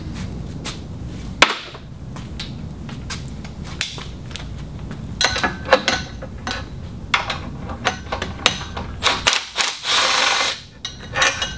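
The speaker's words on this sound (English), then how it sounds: "Break the final bolt loose." A wrench works a stubborn bolt on a Yamaha outboard gear case, producing sharp metallic clicks, knocks and ratcheting clatter in irregular bursts, close and fairly loud, with a final louder scraping rush near the end.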